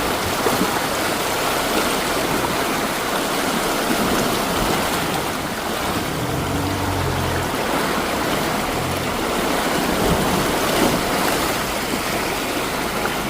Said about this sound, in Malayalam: നല്ല ഒഴുക്കാണ്.